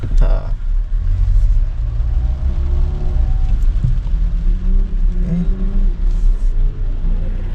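Vehicle engine rumbling and revving loudly at close range on a rainy day in Kuwait, a sustained low drone with shifting pitch that fills the whole stretch.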